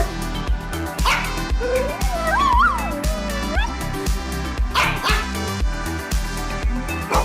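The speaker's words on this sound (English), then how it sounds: "Maybe we need a dog jingle to put in here to sort of fill the dead air." A dog-barking jingle plays on a football podcast: repeated barks and yips over a musical backing, with a rising, wavering whine in the middle that sounds like a siren or whimper.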